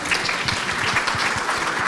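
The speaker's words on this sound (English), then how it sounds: "please welcome this applause." Audience applause follows a Malta residency and citizenship by investment panel at the Cannes IELP Expo, a steady patter of many hands clapping in a hall, moderately loud and continuous for a couple of seconds.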